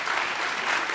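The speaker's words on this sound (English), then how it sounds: "you can clap. I have to clap over here." Audience at a high school choir concert and senior recognition event clapping, a dense, steady patter of many hands filling the hall for about a second.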